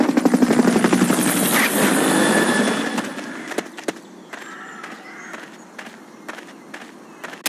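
A Fulton recovery helicopter in Metal Gear Solid Peace Walker thumps loudly with rapid rotor beats that fade after about three seconds, leaving quieter footsteps and scattered game sounds.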